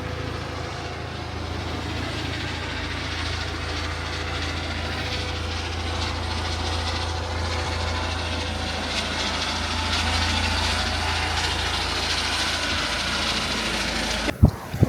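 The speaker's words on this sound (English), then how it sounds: "This helicopter keeps circulating around us." A French coastguard helicopter circles a sailboat off Normandy, its engine and rotor drone a steady, moderately distant hum that persists throughout, with a brief knock near the end.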